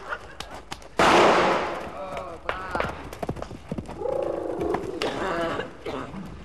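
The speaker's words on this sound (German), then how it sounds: "Diese beiden Pferde erleben gleich zum ersten Mal einen Schuss aus nächster Nähe." A single sharp gunshot cracks close to two horses at a Karl May show in Bad Segeberg, followed by hoof clatter and shuffling, with voices in the background.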